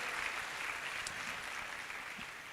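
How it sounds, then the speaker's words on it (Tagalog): Applause for teachers and administrators at a college pinning ceremony in the Philippines: a steady, even wash of many hands clapping, heard from some distance in a large hall, with no talk over it. "Pwede ba isang malakas na palakpak sa ating mga teachers and administrators?"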